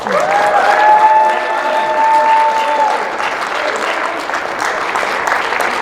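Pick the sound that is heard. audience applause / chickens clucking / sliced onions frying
audience applause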